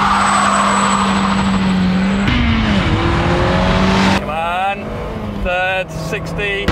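A car launches hard on flat dragster tyres, its engine roaring loud and close while the wheels spin, then climbing through rapid gear changes with rising and falling revs.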